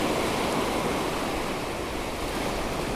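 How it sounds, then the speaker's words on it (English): Steady ocean surf washes continuously onto a beach, a dense unbroken rush of breaking water with faint wind, close and even throughout with no voices. "listening to the surf rolling in and out"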